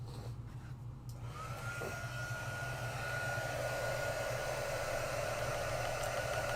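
A heat tool blows steadily over craft pieces to heat set them, a constant close whirring hiss that holds unbroken throughout with no talk.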